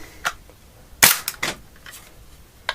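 A chrome stainless Tokyo Marui Desert Eagle .50AE airsoft pistol fires a single sharp, close crack, followed by a few quieter clicks and snaps from the mechanism and BBs, with no talking.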